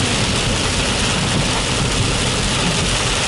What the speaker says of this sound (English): Tropical downpour here.